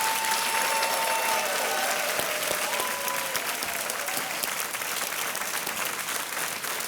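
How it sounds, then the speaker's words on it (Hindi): Studio audience on a Hindi quiz show applauds steadily and loudly throughout, a dense continuous wash of many hands with faint crowd noise underneath, tapering slightly toward the end. "तालियां बजती रहनी चाहिए।"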